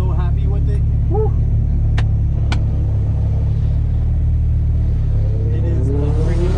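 A turbocharged Mazda Miata on a track run holds a loud, steady engine drone and rumble throughout, with two sharp clicks and voices talking over it.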